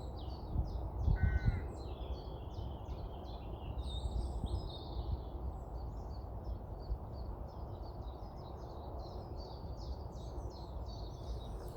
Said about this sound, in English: So hopefully you can hear the birds, you can hear the geese